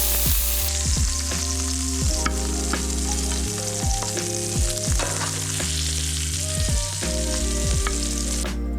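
Andouille sausage browns in a frying pan, a loud, constant sizzle broken by regular stirring scrapes and a few utensil knocks, close up, with no one talking.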